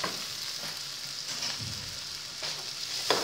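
Onion and crushed garlic frying in a pan, a soft, steady sizzle with occasional light scrapes and taps of stirring.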